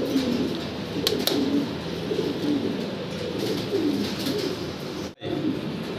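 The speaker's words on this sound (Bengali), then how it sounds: "একদম নতুন কবুতর।" Pigeons coo steadily at a fancy pigeon breeding farm, a pair of new birds among them, with overlapping soft, throaty calls continuing through the scene and a brief dropout near the end.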